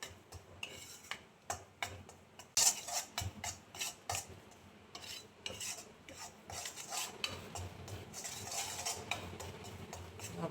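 Flour roasts in ghee for sukhdi in a pan as a spoon stirs and scrapes with repeated clinks and rasping strokes, quiet at first and then busier and more continuous.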